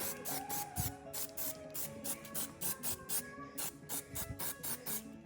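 Rapid, evenly spaced bursts of aerosol hiss as Plasti Dip is sprayed in a heavy second coat onto the gray front fender of a 2020 R1 motorcycle, close and steady, with faint tonal background sounds underneath.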